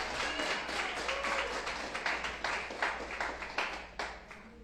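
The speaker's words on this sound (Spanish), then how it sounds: "Ahí se merece un aplauso al Señor" A congregation at a Shabbat Torah-portion teaching breaks into sustained applause, a dense, steady wash of many hands clapping together that fades slightly toward the end.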